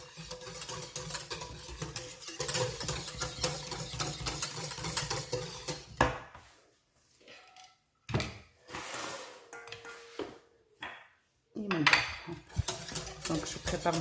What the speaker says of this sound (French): Et là, on vient mélanger sans cesse sur un feu moyen.